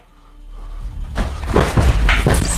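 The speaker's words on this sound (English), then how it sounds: "That bang at the door?" Bang at a door in a dark, tense setting, starting with near silence before a sudden loud thump around the middle, followed by a couple more knocking or rattling impacts close by.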